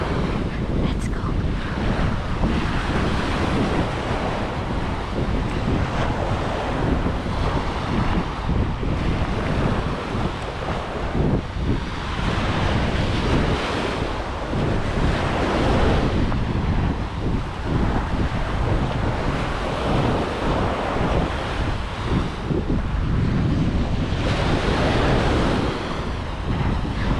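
Big ocean waves pounding the shore at Cua Dai Beach in Hoi An, a continuous loud roar of surf with heavy wind buffeting the microphone and no break throughout.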